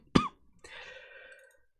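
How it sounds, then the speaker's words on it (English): One sharp, close cough from someone recovering from COVID, then a short pause and a raspy, drawn-out throat-clearing sound that fades out. "if I'm coughing a lot, it's because it's like my COVID symptoms still"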